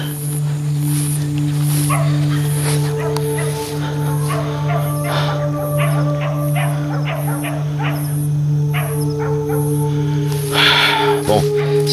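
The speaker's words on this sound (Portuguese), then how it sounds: "Vocês estão escutando os cachorros latirem aí, tá, pessoal? É do sítio ali ao lado." Dogs on a neighbouring farm bark in repeated yips and bow-wows, moderately distant, over a steady mechanical hum; a few louder barks near the end.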